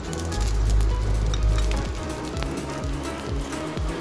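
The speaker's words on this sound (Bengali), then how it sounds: "এখন আমি ফোড়ন দিয়ে দিচ্ছি, শুকনো লঙ্কা," Dried red chilli, bay leaf and panch phoron sizzle in hot oil for a raw banana kofta curry, a close, steady crackling hiss with a few small pops and clinks.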